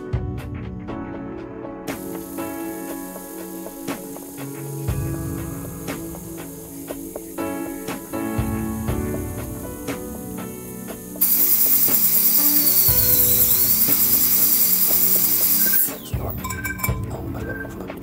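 A diamond burr on a high-speed dental handpiece grinds against a steel plate, giving a loud, steady high-pitched whine and grinding for several seconds amid clicking mechanical noise, with no talking.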